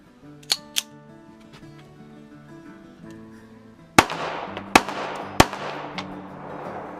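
Pistol shots from a 9x18mm handgun ring out at an outdoor range, two quick cracks followed after a pause by three sharper, louder reports, with a steady tonal hum underneath.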